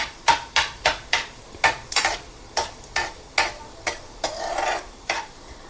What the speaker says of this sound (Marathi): जिरे एकदम लाल होईपर्यंत थोडंसं आपण फिरवून घेऊया.